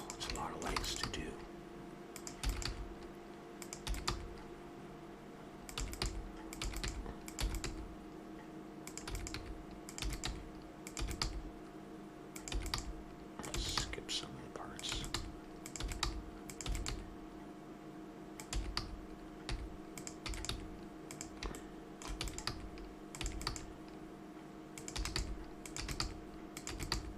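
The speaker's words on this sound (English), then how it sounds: "My fingers are slipping off the keys a bit." Steady typing on a computer keyboard during 3D modeling work in Blender, with dense bursts of key clicks throughout, close and fairly quiet over a low steady hum, with occasional talk.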